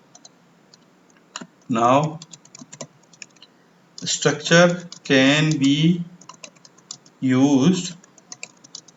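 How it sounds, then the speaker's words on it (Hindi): Typing on a computer keyboard while working in MS PowerPoint: soft, scattered key clicks fall between and beneath bursts of someone talking. "मैं अब इसमें यहाँ पर टाइपिंग कर दूंगा"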